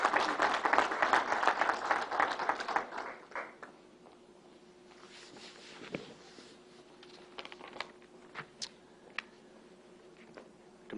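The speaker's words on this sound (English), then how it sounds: "they need a round of applause as well" Audience applause for essential workers at an outdoor announcement at Belmont Park, a dense burst of clapping that fades after about three seconds into scattered faint claps and quiet background.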